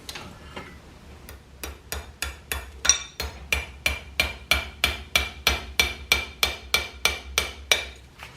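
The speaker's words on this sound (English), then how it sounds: "Now we're going to go ahead and drive our pen in there." A hammer drives a pin into a blacksmith's hardy hole fuller, first with a few lighter taps and then with about twenty loud, ringing metal strikes at a steady, even rhythm, close by and with no talking.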